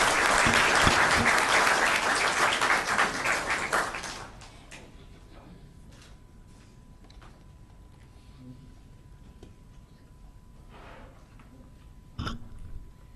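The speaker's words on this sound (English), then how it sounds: "Another round of applause, please, for Richard." Council meeting audience applauding a long-serving commissioner, loud sustained clapping for about four seconds that then stops abruptly, followed by quiet room noise and a few small knocks and shuffles.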